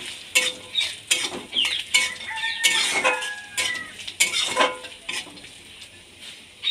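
Ginger and raw peanuts stirred in a hot pan, with a spatula scraping and clinking against metal in quick repeated strokes over a steady frying sizzle, close and fairly loud.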